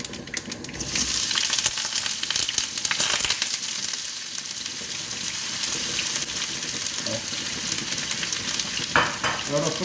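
Chopped onions fry in coconut oil with a loud, continuous sizzle and crackle, with occasional stirring clinks and scrapes from the pan throughout.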